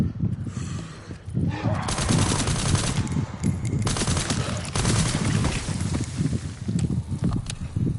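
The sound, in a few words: gunfire in the video game Resident Evil 9 Requiem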